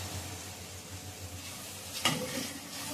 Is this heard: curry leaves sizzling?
yes